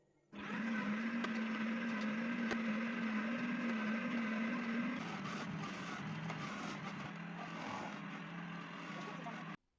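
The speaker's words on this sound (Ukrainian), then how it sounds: "моркву теж натерла через м'ясорубку ну, через кухонний комбайн натерла" A kitchen food processor grates carrots and other vegetables with a loud, steady whirring motor that starts abruptly and runs continuously, its pitch dropping slightly midway.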